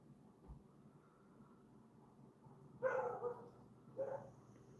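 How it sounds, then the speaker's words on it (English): A dog barks a few times at close range during a painting session, two short bursts of yapping near the end following a quiet stretch. "There's dog shouting at us."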